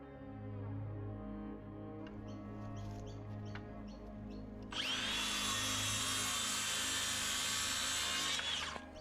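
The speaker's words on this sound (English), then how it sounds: "Then just clean up the rest with the chisel." A chisel clearing leftover wood from notches in a fence post, scraping and rubbing strokes at first, then a harsher sustained rasping stretch, close and moderately quiet with no talking.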